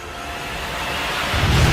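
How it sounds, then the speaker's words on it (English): A massive tornado storm in the video game Just Cause 4, a loud broad roaring rush of wind that swells steadily, with a deep rumble building at the end. "In this mission, Rico's pursuing a massive tornado as it weaves a path of destruction throughout the grasslands."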